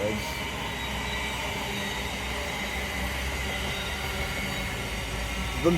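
A Great Northern Class 700 electric train passes Hatfield station on the East Coast Main Line, giving a steady, loud rumble and wheel noise throughout with a faint squeal near the end.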